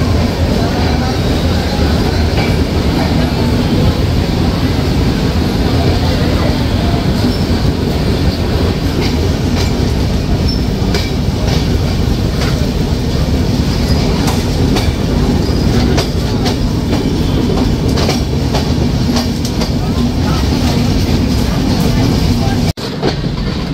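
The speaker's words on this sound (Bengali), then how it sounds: "ট্রেনটি ছেড়ে যাচ্ছে কুষ্টিয়া কোর্ট স্টেশন।" Madhumati Express train rolling on the rails after leaving Kushtia Court station, with loud, steady clickety-clack of wheels and carriage rumble throughout, briefly squealing, heard from inside the moving train.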